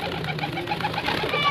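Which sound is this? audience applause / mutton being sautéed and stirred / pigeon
pigeon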